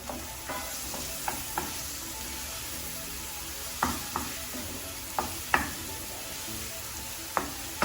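Onions cooking in a pan on a home stove, a continuous gentle sizzle punctuated by scattered sharp utensil taps and clinks against the pan, with no talk.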